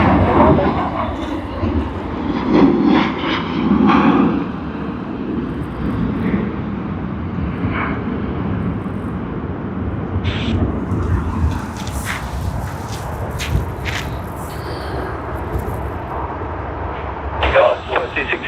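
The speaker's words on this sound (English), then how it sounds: "Sydney to Melbourne service VA886 on the Boeing 737-800, registered as VHVUT, has begun its takeoff roll" A Virgin Australia Boeing 737-800 begins its takeoff roll at Sydney Airport, a broad engine roar heard from a distance that swells and then fades, with scattered outdoor noise and occasional voices.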